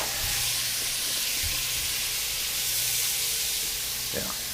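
Beef short ribs and onions sizzle steadily in a hot pan, a constant bright hiss with occasional soft clinks of a wooden utensil, close and even throughout.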